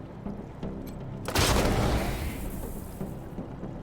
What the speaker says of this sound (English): puncturing shot seems like a good call because we get to shoot through both these dudes